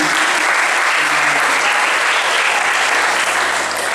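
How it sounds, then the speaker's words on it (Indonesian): A school audience at a communal iftar gathering claps loudly and continuously, a dense, even burst of applause filling the whole stretch without speech. "tepuk tangan dulu"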